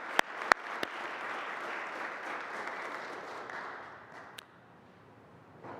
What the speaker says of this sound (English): join me in a round of applause for this